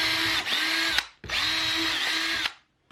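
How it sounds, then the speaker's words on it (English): A power drill pre-drills holes in the bottom of a wooden mountain-shaped shelf in two loud, close bursts of about a second each with a short pause between, the whine dropping as each hole finishes. "I'm going to pre-drill holes in the bottom here."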